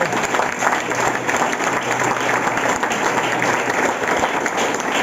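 A large church congregation applauds continuously and loudly, dense clapping filling the room without a break.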